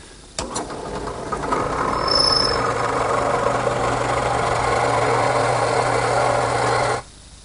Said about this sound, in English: drill one of the back holes